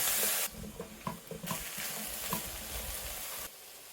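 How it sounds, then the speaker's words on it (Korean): Steady hiss of pork, onion, zucchini, carrot and potato sizzling and frying in a hot pot for curry, with scraping and clinking of a utensil stirring throughout; close and fairly loud. "야채가 살짝 익으면 썰어놓은 고기 2컵을 넣고 볶아줍니다."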